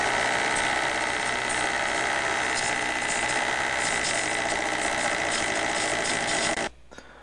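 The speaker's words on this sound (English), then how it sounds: "first I'll start by machining the face of this down through probably that point there" A lathe faces down a scrap metal piece for a model Cat D8H bevel gear, a loud, steady machine whine with a cutting hiss that runs continuously, then drops sharply near the end, with no talking.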